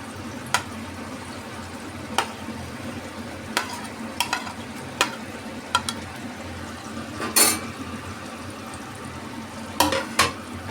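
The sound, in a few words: paneer, tomato and capsicum navratan curry cooking in pan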